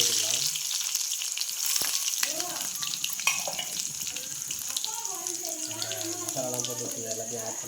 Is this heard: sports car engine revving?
no